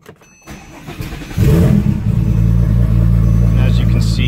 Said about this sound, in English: So this is a cold start, fires right up.